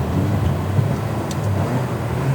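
A Ferrari 360 downshifting with no throttle blip gives a continuous engine drone under heavy road and cabin noise, with no distinct rev spike, and no voices.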